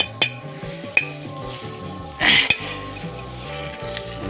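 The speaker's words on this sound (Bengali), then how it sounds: "এখন কড়াইয়ে পেঁয়াজ দিয়ে দিলাম" Loud burst of sizzling as onion hits hot oil in a wok, over steady kitchen clatter and background music, with a few sharp clinks of utensils.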